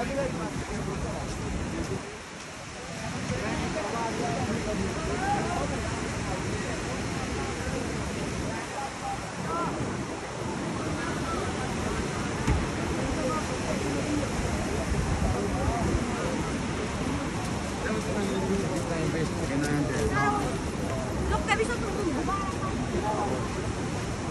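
River water rushes steadily at Manikaran, Himachal Pradesh, a continuous broad roar running under intermittent conversation.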